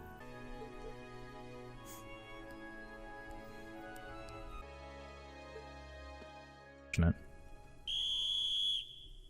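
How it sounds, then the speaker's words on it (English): A whistle blows near the end of a scene in the video game Trails of Cold Steel, a sustained loud tone rising over music and game sound after a brief sharp hit. "They're blowing the whistle on us."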